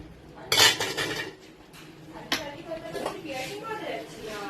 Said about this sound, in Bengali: এবার এর মধ্যে দিয়ে দিচ্ছি এঁচোড়গুলো